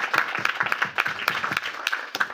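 Audience applause at a business launch event, a crowd of hands clapping briskly and steadily for a couple of seconds, close and fairly loud.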